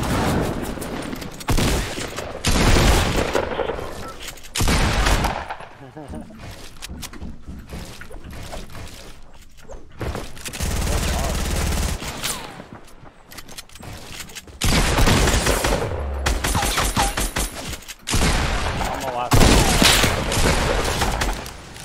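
Rapid bursts of gunfire in a Fortnite Battle Royale squad match, loud clustered volleys in several separate waves with short quieter gaps between, no voices.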